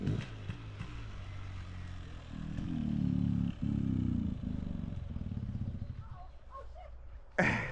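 A 2024 Beta Xtrainer dirt bike tips over with a clattering thud, after its engine rumbles unevenly nearby and a sharp impact lands near the end, outdoors with no talk.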